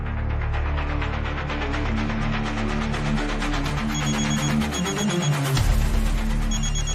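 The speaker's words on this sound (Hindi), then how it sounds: "ये लीजिए, दीवान सोलंकी का ही फोन है, बात करेंगे आप?" A phone rings continuously in a dramatic scene, its repeated bell-like tones layered over a dense, steady background score, with no voices over it.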